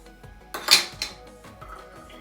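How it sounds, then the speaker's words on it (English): A sterilized metal lid is set on top of a jar of dandelion syrup, giving a bright close clink followed by a few softer rattles and taps, with no talking. "put my sterilized lid on top."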